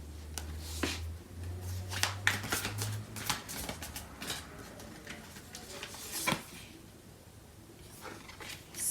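Tarot cards shuffled and handled during a love reading, giving a run of close, crisp riffling and tapping clicks with soft rustles and a low hum at the start.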